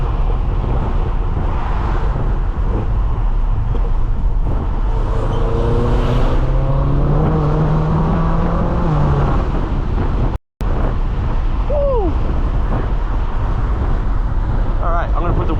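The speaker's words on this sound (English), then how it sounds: "I just wanted to hear the car for a little bit, but damn, this thing is fast." A tuned 800 HP BMW M6 engine revs and accelerates loudly on New York City's FDR Drive on a freezing day, its pitch rising and falling through gear changes, with steady wind and road roar throughout.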